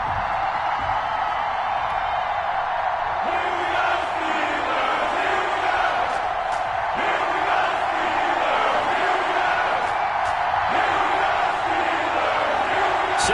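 A stadium crowd roars and cheers in an EA Sports NFL video game before a Cleveland Browns versus Pittsburgh Steelers matchup, a dense, steady wall of voices and whoops that swells slightly in places, loud and continuous.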